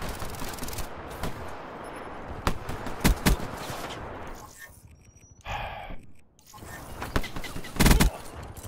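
Rapid automatic gunfire crackles in loud bursts during a Salvation DLC match in a battle royale shooter, with dense volleys near the start and again around the middle and end, separated by brief quieter stretches.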